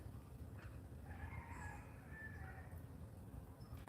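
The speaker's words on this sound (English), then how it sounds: "The chickens are free range." A free-range rooster crows at a distance over a steady low rumble of wind or outdoor background, the long tonal call drawn out across several seconds.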